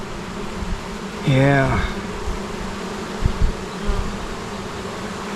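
Honeybees buzz loudly and close during a beehive inspection, a dense agitated drone rising as the hive is disturbed, with a brief louder pass and occasional handling knocks and a short spoken word.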